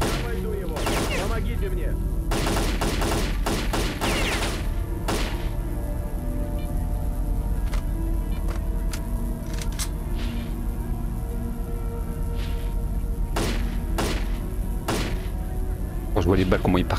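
Bursts of gunfire from S.T.A.L.K.E.R.: Call of Pripyat, loud repeated volleys near the start and again toward the end, separated by quieter stretches with scattered single shots, with someone talking over parts of it.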